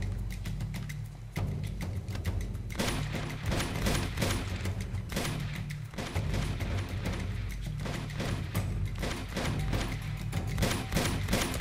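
A Gatling gun in the Uncharted 2 video game fires in long, dense, rapid bursts of loud automatic gunfire with heavy low booms, broken by brief pauses and continuing through the whole stretch without talk.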